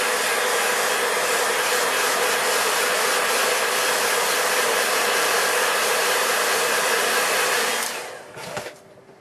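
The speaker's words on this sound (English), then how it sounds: "I've got a hairdryer." A hair dryer blows steadily at close range with a loud, constant whoosh, then cuts off near the end, leaving a few faint knocks.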